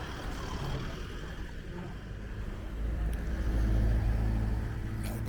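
Cars pass along a beach road at Cha Am, Thailand, their engine and tyre rumble swelling louder and closer toward the end over a steady low roadside hum.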